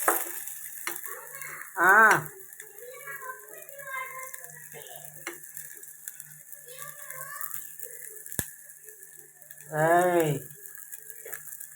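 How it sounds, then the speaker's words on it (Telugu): Onions fry in hot oil for a plantain curry, giving a continuous soft sizzle. A few clattering stirs come through, and two short bursts of speech sit over the frying. "ఉల్లిపాయలు వేగాలి."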